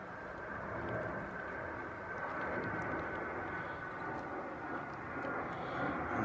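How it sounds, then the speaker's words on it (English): A fixed-wing aeroplane passes overhead outdoors, a steady broadband engine roar that stays fairly even and continuous throughout, with no talking. "And that's an aeroplane flying overhead, interrupting my voiceover."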